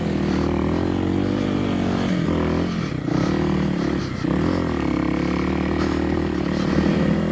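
A Kawasaki KLX 300 dirt bike crawls up a rocky trail in Floyd, Virginia, its engine droning loud and close at low revs with slight dips and surges, accompanied by faint scraping and clatter over the rocks.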